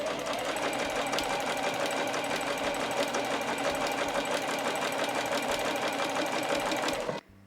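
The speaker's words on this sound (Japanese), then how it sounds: "折った線の上を縫っていきましょう。" Home sewing machine stitching along a folded line on a heavy No. 8 canvas tote bag divider, a rapid steady mechanical chatter running several seconds before stopping abruptly.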